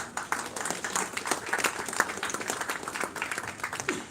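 Applause from a festival audience at an award ceremony welcoming a young filmmaker jury member, a moderate, steady patter of clapping with a faint voice underneath.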